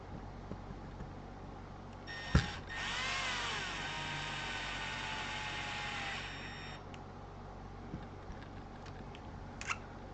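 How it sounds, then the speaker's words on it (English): A power wrench drives screws on an Associated B84 4WD R/C buggy build with gearboxes and towers: one sharp click, then a steady high whine of about four seconds, with faint clicks and handling noises afterward and no talking. "Pretty easy to do with a power wrench."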